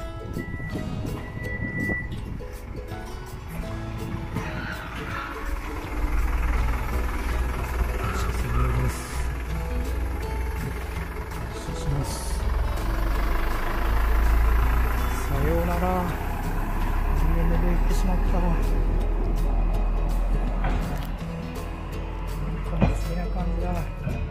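A DMV dual-mode rail-road vehicle departs from a station, its diesel engine rumbling and rising in a low steady drone, fairly loud, with a short tone and mechanical clatter over it and speech in the background.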